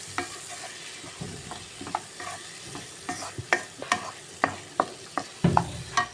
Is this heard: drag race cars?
no